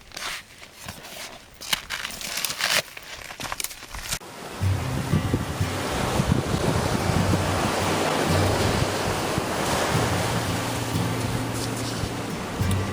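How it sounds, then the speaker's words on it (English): Sea waves wash steadily onto the shore on an April morning in Nova Scotia, a continuous broad surf roar with wind buffeting the microphone; earlier rustling gives way to constant rolling surf. "I'm here by the sea."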